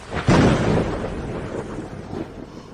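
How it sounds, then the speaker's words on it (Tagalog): A deep, loud rumble of thunder breaks suddenly and rolls on, slowly fading with a second swell near the end. "Huwag kang matakot, kulog lang yan, nandito ako."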